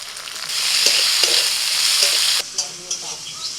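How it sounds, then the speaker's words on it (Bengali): Chopped tomato hits hot oil with fried onion and ginger-garlic paste, giving a loud, even sizzle and spoon scraping. The sizzle drops suddenly near the end and leaves a quieter crackle with a few clinks. "এবার দিচ্ছি টমেটো কুচি,"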